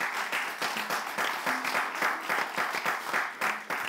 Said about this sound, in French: Est-ce qu'on peut applaudir et accueillir Madame Reine Chakele, s'il vous plaît?